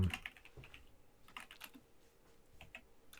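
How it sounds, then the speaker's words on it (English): A computer keyboard is typed on quietly during a livestream for the game Albion Online, giving soft, scattered key clicks in an irregular rhythm with no talk over them. "You're typing. What are you typing, sir?"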